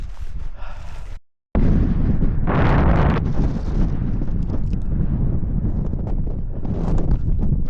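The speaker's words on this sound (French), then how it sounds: "Il y avait un putain de vent des bourrasques" Strong gusty wind roars across the microphone near the summit of Mont Ventoux in Provence, loud and continuous, with buffeting surges and a brief dropout early on.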